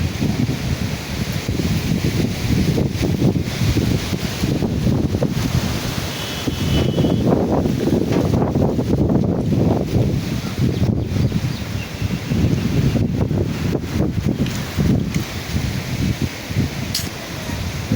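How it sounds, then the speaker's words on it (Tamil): Strong gusting wind roars continuously into the microphone, rumbling and buffeting for the whole stretch with no clear voices. "புயல் காற்று வருது."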